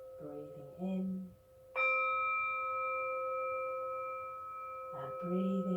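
A meditation chime struck once, ringing out clear and sustained with a bright, slowly fading tone, with speech before and after.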